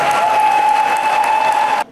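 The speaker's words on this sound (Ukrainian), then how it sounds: "Львів'янам так полюбилися ці співанки, що не шкодують оплесків" An audience applauds after a folk carol concert of Christmas songs in Lviv, a loud, dense wash of clapping that holds steady and then cuts off abruptly near the end.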